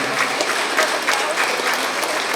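Steady, dense clapping from a large audience at a student award ceremony, loud and continuous throughout with no speech over it.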